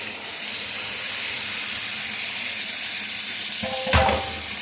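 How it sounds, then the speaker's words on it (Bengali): Potatoes cook in a pan with water added, giving a steady close hiss and sizzle, then a brief louder scrape and clatter of stirring near the end, with no voices. "দিয়ে একটু ভালো করে নাড়াচাড়া করছি যাতে আলুটা একটু সিদ্ধ হয়ে যায়"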